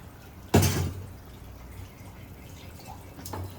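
Tamarind juice splashes into a pot of simmering taro curry, a short loud liquid gush followed by quiet bubbling and a faint second splash.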